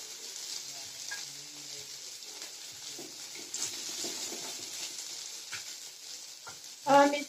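Rice flour chila fries in oil on a pan, a steady soft sizzle running underneath a voice speaking.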